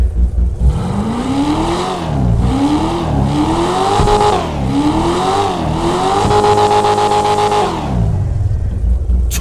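An Invetero Coquette Blackfin muscle car in a video game accelerates hard through several gears, the rear-wheel-drive engine roaring up in pitch and dropping at each shift, loud and close with a brief tire squeal.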